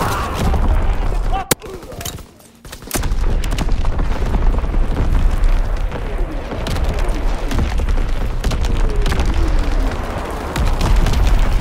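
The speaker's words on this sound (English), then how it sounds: "Incoming enemy artillery," Artillery shells burst repeatedly in the World War II shooter game Call of Duty: WWII, with loud booms over a constant roar of battle and a brief near-silent gap early on.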